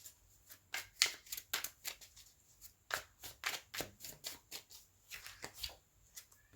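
Tarot cards are shuffled and drawn by hand, making rapid papery riffles and soft slaps in an uneven rhythm, close and quiet, with no talking.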